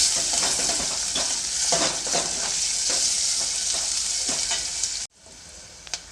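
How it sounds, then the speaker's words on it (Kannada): Onions fry for an avarekalu sambar with a bright, continuous sizzle and repeated stirring scrapes. The sound then drops abruptly to a much quieter hiss with a couple of faint clinks. "ಇವಾಗ ಈರುಳ್ಳಿನ ಒಂದು ಸ್ವಲ್ಪ ಫ್ರೈ ಮಾಡ್ಕೊಳ್ತೀನಿ"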